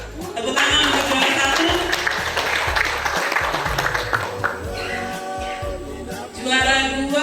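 Audience applause at a prize ceremony for a Toli FC logo design contest winner, a dense sustained wash of clapping running throughout with some voices mixed in.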